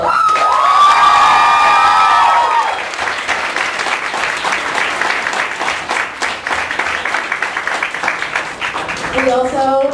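Audience at a wizard rock awards ceremony claps and cheers loudly, with whoops and high shouts over dense applause, then a voice speaks near the end.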